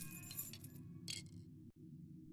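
A black porcelain cat statuette with an open mouth is shaken in The Cat Lady horror game, giving a few light glassy clinks and rattles over a steady low background hum.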